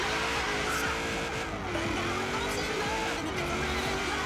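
A Cadillac Escalade ESV drives in Forza Horizon 3, its engine droning steadily with tires scrubbing and squealing, loud and continuous throughout, with a voice talking over it.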